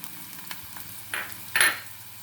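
Chopped ginger and garlic sizzle in a pan for a Kerala-style potti fry, with a couple of short hissing bursts and faint stirring scrapes.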